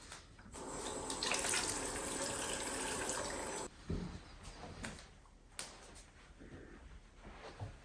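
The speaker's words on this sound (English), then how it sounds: "I'm just going to rinse it off." Tap water runs steadily into a sink for a few seconds while a face is rinsed after cleansing, then stops, leaving soft splashes and handling sounds nearby.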